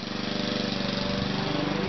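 Lawn mower running continuously outdoors on a hot day, a steady loud engine drone with a buzzing harmonic rumble throughout and no talk over it.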